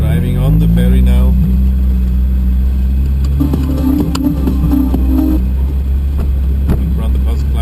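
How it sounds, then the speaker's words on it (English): Engine rumble from a pair of Lotus Exige sports cars rolling onto a ferry for Dregsvik, Norway, a steady low drone with a brief rising rev mid-way, heard close under ongoing talk. "We're driving on the ferry now"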